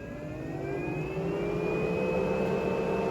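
A Benimar motorhome's roof vent fan extracts air from the vehicle, a steady close whirring drone whose tones slowly rise in pitch as the fan speeds up, with no voices.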